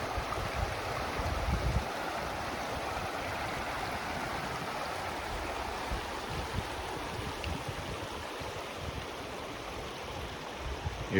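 A mountain stream flowing through a West Virginia valley in the Appalachian Mountains, a continuous close rushing and gurgling of water, steady throughout with no voices.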